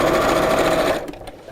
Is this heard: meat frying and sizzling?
no